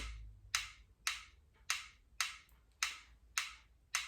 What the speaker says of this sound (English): I can make the metronome tick very slowly.